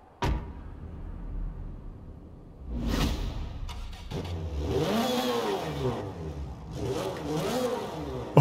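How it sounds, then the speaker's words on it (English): A 1994 Toyota Celica WRC rally car in Forza Horizon 4: a door thud, the engine cranking and catching, then loud rising and falling revs in repeated sweeps, close and dominant. "I like to experience getting into the car and starting it up just like this."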